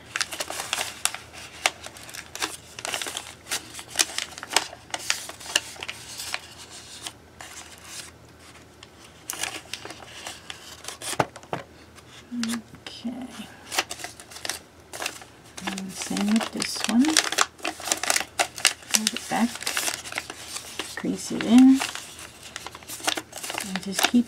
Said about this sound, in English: And fold it back and crease it in.